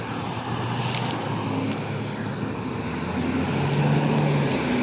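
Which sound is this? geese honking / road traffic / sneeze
road traffic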